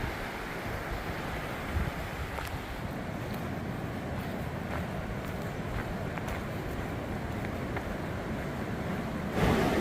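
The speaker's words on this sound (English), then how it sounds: "Our water's really flowing today." French Broad River flowing strongly beneath a bridge crossing, heard as a steady, broad rushing roar with wind buffeting the microphone, continuous and even throughout.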